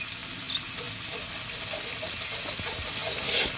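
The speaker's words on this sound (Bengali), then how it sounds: "এইভাবে পেঁয়াজগুলো কিছুক্ষণ ভাজা হবে।" Onions frying in a pan for a chicken dish, a soft, steady sizzle with faint scattered pops and a brief clink.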